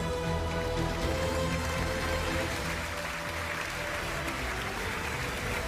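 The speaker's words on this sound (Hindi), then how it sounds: "तालियों के साथ स्वागत कीजिए हमारे तीनों जजेस का" Studio audience applause welcoming the judges on a Hindi TV debate show, a dense steady wash of clapping with music-like tones beneath, fairly loud and continuous throughout.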